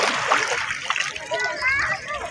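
Sea bathers splashing in shallow water at a beach in Lemery, Batangas, with a few distinct splashes and sloshes close by while people's voices, including children, carry over the water.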